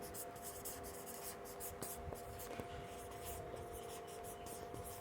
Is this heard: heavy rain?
no